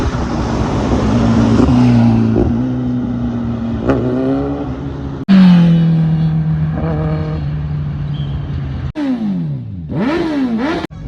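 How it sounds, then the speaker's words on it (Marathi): Kawasaki Z900 motorcycle engine running loud and close, a steady drone broken by sharp revving bursts and a quick rise and fall near the end. "हे आज बघा ड्रायव्हिंग चालू आहे ना"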